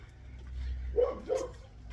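A dog gives two short barks at mid distance on a Sunday evening around 8 o'clock, outdoors near a pond being dug, over a low steady background hum.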